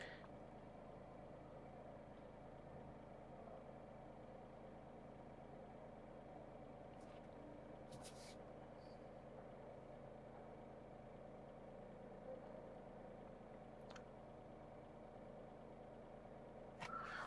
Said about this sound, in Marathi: तुम्हीच ऐका की किती इंजिनचा नॉइज तुम्हाला गाडीमध्ये ऐकायला मिळतोय